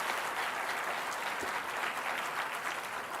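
Audience applause at an innovation awards ceremony honouring entrepreneurs: steady, dense clapping from a large crowd, sustained throughout at even volume.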